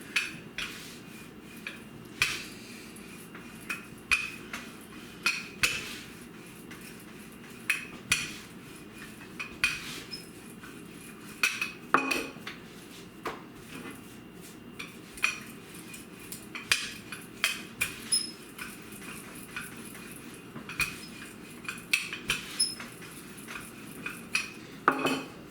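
Pita dough being rolled into a round about 7 inches across and 1/4 inch thick with a rolling pin on a floured surface, producing irregular close knocks, clacks and soft scraping that repeat steadily throughout.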